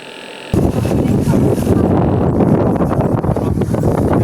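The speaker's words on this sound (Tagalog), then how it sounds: "Siguro malakas ang hangin dito." Strong wind buffets the microphone, starting abruptly and continuing as loud, rumbling, fluttering noise for several seconds.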